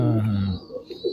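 Rampuri pigeons give a close, low throaty coo lasting about half a second, with a few faint softer sounds after it.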